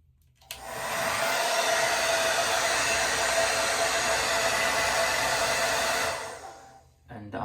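A Revlon Turbo 1875W hair dryer set to cool air on low speed, switched on for a steady, even rush of airflow lasting about five seconds before cutting off, moderately loud and close.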